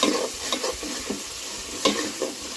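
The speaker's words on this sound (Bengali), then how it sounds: "এই মাছগুলো ভেজে নেব" Rohu fish pieces frying in oil for a bottle gourd curry, a soft steady sizzle with a few brief scraping and stirring clatters, close and fairly quiet.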